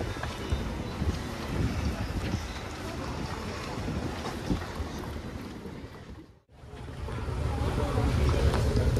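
Large tourist boat cruising on the sea near James Bond Island in Thailand, a steady low engine rumble mixed with strong wind buffeting the microphone, briefly dipping before rising louder again.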